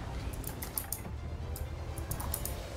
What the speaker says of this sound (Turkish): Arka plandan gelen bir klavye sesini kapatmam gerekecek galiba hakikaten